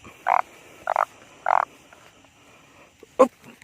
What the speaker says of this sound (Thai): กบจริงๆครับ ใหญ่ด้วยพี่น้อง